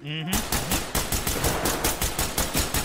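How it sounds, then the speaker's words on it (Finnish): Sustained automatic gunfire in the Ready or Not SWAT shooter game, a rapid, even burst of close, loud shots repeating steadily for nearly three seconds. "Kato, kun mä ammun ton."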